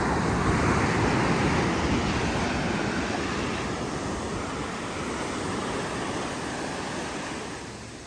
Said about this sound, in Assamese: আৰু ঢৌবোৰ যথেষ্ট ডাঙৰ ডাঙৰ হৈ আহি আছে।